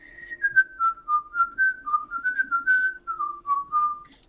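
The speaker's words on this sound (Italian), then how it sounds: "si è messo a fischiettare." A warrior character's idle animation in the video game Book of Demons: a clear, solo melodic whistle with a wandering tune of short connected notes, close and prominent over silence.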